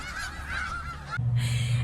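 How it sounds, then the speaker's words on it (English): Loud honking calls from large chickens, first a sustained nasal cackle then a stronger braying honk, close by with no talking. "Look at all those chickens."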